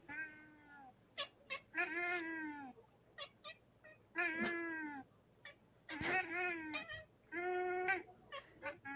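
A cat meows repeatedly in a played clip, drawn-out plaintive calls in an irregular rhythm with brief pauses between them. A faint hum runs underneath.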